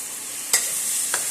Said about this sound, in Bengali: লঙ্কা, আদা, রসুন, ধনে, জিরে, ভালো করে মিশিয়ে নেব।